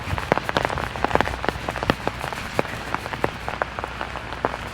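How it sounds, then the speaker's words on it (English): Steady rain falling outdoors in a yard near a fence line and house downspouts, a dense patter of close drops striking hard surfaces throughout, with scattered louder individual splashes and no talking. "so it's raining."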